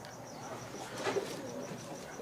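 A pigeon coos softly in the background, a faint, brief low call over quiet ambient room noise.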